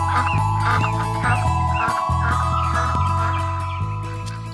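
A goose honking in a children's story, a run of several loud, close nasal honks in quick irregular succession, alone with no speech.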